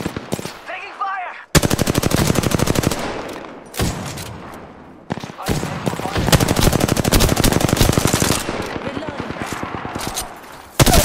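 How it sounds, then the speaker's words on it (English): Rapid automatic gunfire from an Apex Legends match on Xbox One, loud and sustained in long bursts with brief pauses between volleys. "Taking fire."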